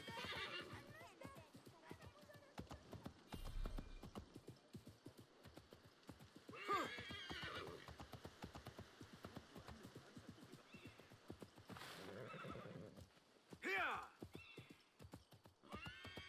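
Horse neighs and hoofbeats in Assassin's Creed Mirage, with clip-clopping steps throughout and several loud whinnies, mixed with game sounds and a player's speech.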